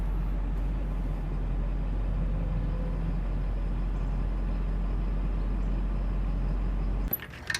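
A vehicle idles and creeps backward to line up a tri-ball hitch under a trailer coupler, a steady low engine rumble close by with no talk, ending in a short clatter of metal.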